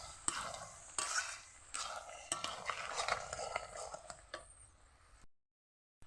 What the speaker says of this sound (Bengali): এবার একটু নেড়ে ছেড়ে দেবো।